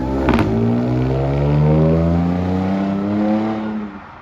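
A BMW engine on an older intake revs up and holds high before dropping off, a loud rising whine riding over the exhaust roar, heard fairly close.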